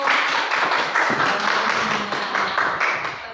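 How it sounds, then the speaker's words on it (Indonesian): Classroom applause for a student group after their presentation, a brief burst of dense clapping from a small audience, fairly close and steady throughout. "Tepuk tangan untuk kelompok 1."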